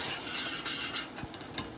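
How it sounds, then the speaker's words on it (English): A whisk scrapes and swirls steadily through boiling caramel for brown salted caramel brownies in a pot, making a continuous close, wet churning with faint bubbling and a few soft metallic taps against the pan. "you take your whisk and go around, make sure everything is getting all dissolved."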